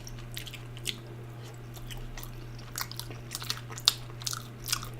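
Close, intimate biting and chewing of shrimp-filled rice noodle rolls at a dim sum meal, soft squishy bites and small crunchy clicks scattered irregularly over a low steady hum.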